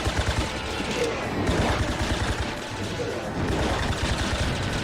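Dense, continuous gunfire and explosive blasts from the shoot-'em-up game The Red Star fill the whole stretch at steady loudness, with rapid stuttering shots layered over booms and a faint voice underneath.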